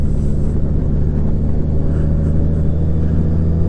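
A Honda Gold Wing motorcycle with a DCT automatic gearbox runs at speed while the rider tries to force an upshift, giving a steady, loud, low engine rumble mixed with road and wind noise.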